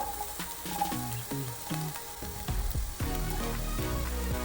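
Garlic, capsicum and spring onions fry in a pan, giving a quiet sizzle broken by clicks and scrapes of stirring, close and fairly soft.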